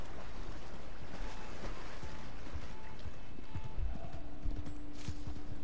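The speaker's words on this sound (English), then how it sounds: "Alright, horse almost drowned." Video-game horse with clip-clopping hooves and a brief whinny, steady trotting over a constant game background, with no talk.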